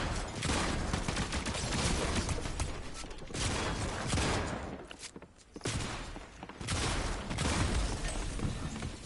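Rapid gunfire in a video game crackles in dense bursts, loud and close, with a brief lull midway before the shooting resumes; no talk over it.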